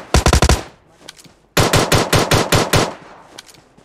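Rapid automatic M4 rifle fire in the PUBG Mobile game: a loud burst of about six shots, a brief lull, then a longer run of around ten evenly spaced shots, with no talk over it.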